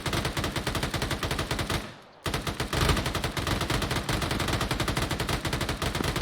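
Sustained automatic gunfire in the video game Arma 3, a dense rapid stream of shots that breaks off for a moment and then resumes, loud and continuous throughout with no talk.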